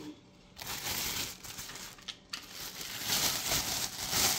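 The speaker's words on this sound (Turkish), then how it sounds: "Poşeti de çıkartalım." Plastic crinkles and rustles close by as it is handled and pulled away, with a couple of brief pauses and sharper crackles.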